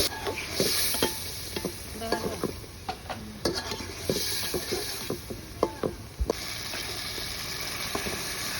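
Hilsa fish frying and being stirred in a pan, a steady bright sizzle with frequent sharp clinks and scrapes of the spatula against the pan, fairly close and continuous throughout.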